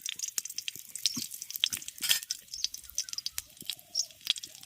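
Cashews and raisins fry in ghee in a wok for carrot halwa, giving soft scattered crackles and pops with light stirring, faint and close.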